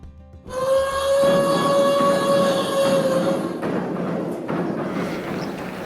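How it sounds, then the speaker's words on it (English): Replica 1890s gold mine machinery on a hillside opens with a long whistle-like tone over a steady mechanical rumble and clatter, heard at a distance outdoors with no talking. "That sound you can hear is from the Company mine up on the hill."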